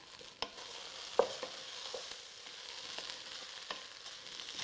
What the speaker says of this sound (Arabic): نزيد نقليها، نخلي البطاطا حتى هي تشرب هذيك النكهات تاع البصل اللي قليناه